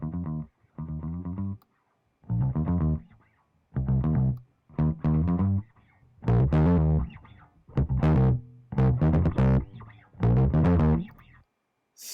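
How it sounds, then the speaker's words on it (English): Short harmonic phrases pass through the drive distortion of a C84 vintage mixing setup, coming as roughly nine gritty, saturated bursts separated by brief silences. "listen to how cool the distortion is if I chose to use the drive"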